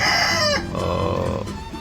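Chickens in a coop, a rooster's loud crow breaking off into clucking hens close by, with the calls overlapping in a short, busy stretch.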